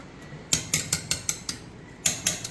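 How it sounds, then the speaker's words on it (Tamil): Crab meat is lightly mixed into omelette batter, with a quick run of about ten bright clinks of a utensil against the bowl, near and distinct, with a short pause before the last few taps and no talking. "நண்டு சதை சேர்த்ததுக்கப்புறம் லைட்டாக நீங்கள் வந்து மிக்ஸ் பண்ணிங்கன்னா போதும்"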